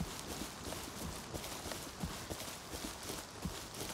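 Horse hooves clip-clop steadily in the video game Rust, a rhythmic walking beat under a constant hiss of background noise.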